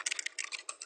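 Quick, light key clicks on a computer keyboard typing a short SSH command, an uneven run of taps that is close and fairly quiet with no talking.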